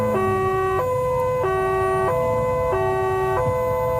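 A two-tone ambulance siren alternates steadily between high and low pitches, loud and close, with a low engine rumble beneath.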